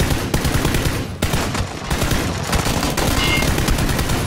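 Dense automatic gunfire in the PUBG battle-royale shooter, a loud continuous rattle of rapid shots with brief gaps and bursts overlapping throughout.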